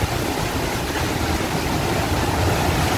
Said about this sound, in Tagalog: pero yung hangin talaga nakakatakot siya